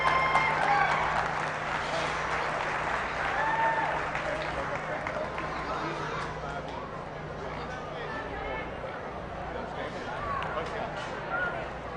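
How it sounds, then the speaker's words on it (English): Sustained applause from a large crowd at a county youth fair and livestock show, with steady clapping and cheering mixed with crowd chatter throughout. "Let's give them a round of applause one more time."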